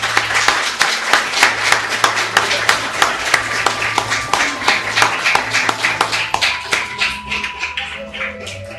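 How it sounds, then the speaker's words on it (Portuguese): A church congregation applauds together in steady rhythmic claps, roughly three to four per second, loud and close, gradually thinning toward the end, with faint tones ringing in the background. "Aplauda ao Senhor em nome de Cristo."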